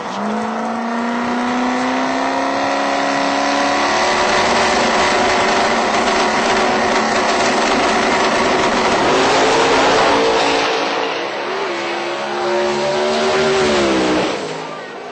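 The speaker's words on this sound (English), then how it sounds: "The car stumbles, you can hear it out there, falls over" A radial drag racing car runs down the strip at a Texas radial meet, its engine roaring loud and continuous with rising pitch, then stumbling and wavering partway through the pass before pulling again.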